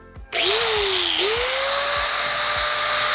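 A handheld power tool plugged into a Tesla Cybertruck power outlet whirs up to a steady, loud high-pitched whine after a brief click, holding speed for several seconds close by.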